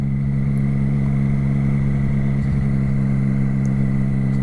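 A 2016 Triumph Street Triple R motorcycle ridden slowly on a street, its engine a steady, even drone held close without revving or talk.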